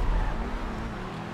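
Pegassi Reaper supercar in GTA V accelerating hard, a loud continuous engine roar with tire squeal, steady and close throughout.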